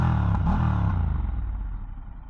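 Deep, bassy engine note from a 2024 Triumph Scrambler 1200X motorcycle, a steady loud low rumble that fades slightly near the end, with no talk over it.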